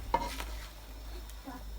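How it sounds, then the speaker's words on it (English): A spoon stirring Jamaican peppered shrimp in a pot with fresh thyme gives a brief clink and scrape near the start, then a soft simmering hiss with a faint second scrape, close and quiet. "Give that a stir again."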